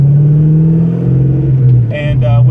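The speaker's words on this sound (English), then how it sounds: "Now I got a Bassani catback exhaust on it." A 1987 Ford Mustang Fox body with an expensive Bassani catback exhaust revs close by with a deep, steady engine drone and a brief rise in pitch near the end, while a voice talks over it.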